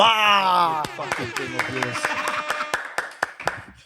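Studio audience clapping and cheering for a podcast guest, Elon Musk's father Errol, loud at first with a voice over it, then thinning into scattered claps.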